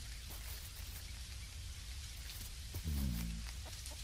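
Steady rain falling in the video game Dinkum, a soft constant patter and hiss throughout, fairly faint, with a brief deeper thud partway through.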